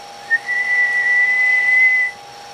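A person whistles one steady, sustained high note into a radio microphone for about two seconds, clear and alone against a faint background hum.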